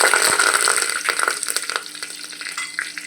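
Curry leaves dropped into hot oil in a pan while cooking aloo matar, a bright, crackling sizzle with spitting pops that starts loud and gradually eases, close up with no talk.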